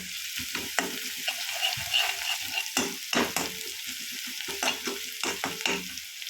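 Onions and vegetables stir-frying in oil for fried rice, a continuous sizzle broken by repeated scraping and tossing strokes of a spatula against the pan, close and fairly quiet, with no one speaking.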